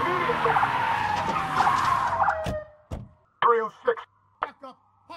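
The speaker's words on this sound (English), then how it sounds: "We then hear some tire screeching" Police car tires screeching in a Life is Strange 2 trailer, a long loud skid with a falling squeal tone that cuts off abruptly, followed by sharp impacts and a few short bursts of police radio voices.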